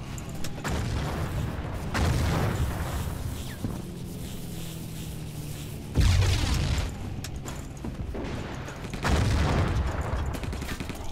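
Grenades explode amid gunfire in Battlefield 1942: three heavy, booming blasts spaced a few seconds apart over a steady crackle of distant shooting.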